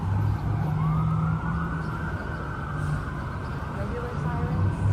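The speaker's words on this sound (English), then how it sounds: "Regular sirens." Emergency vehicle siren wailing in steady, sustained tones over street noise at a nationwide protest in Florida, moderately distant and continuous throughout.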